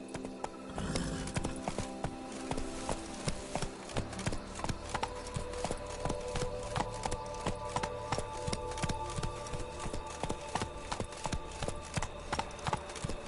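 Roach the horse in The Witcher 3 trotting, with steady, evenly spaced clip-clop hoofbeats that stay close and clear over a constant game backdrop.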